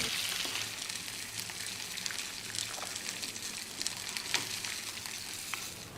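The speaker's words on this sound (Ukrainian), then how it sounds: "Ставимо лаваш на гриль." Lavash wrapped around chicken toasting on a grill, with a soft continuous crackle and sizzle, scattered faint pops and no voices.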